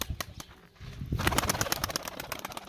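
Pigeons in a four-compartment loft of about ten birds, giving soft cooing calls with a few sharper flutters and clicks, close by and fairly loud, with no talk over them.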